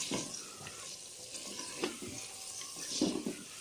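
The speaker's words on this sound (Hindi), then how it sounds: "चिकन हमारा भून रहा है।" Chicken pieces browning in spiced masala for a desi chicken korma, giving a soft sizzle under the occasional scrape and clatter of a spoon stirring the pan, heard alone without talk.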